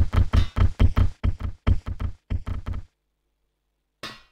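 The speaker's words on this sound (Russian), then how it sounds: "Хера себе топот." Heavy stomping footsteps from the Antarctica section of Resident Evil Code Veronica, a fast run of about a dozen loud, booming thuds in steady rhythm. Silence follows, then a single short thump returns.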